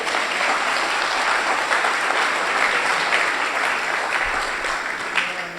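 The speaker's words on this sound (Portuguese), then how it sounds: "Isso merece uma salva de palmas" A church congregation claps together in steady, dense applause during a worship service, filling the room evenly for several seconds with faint voices underneath.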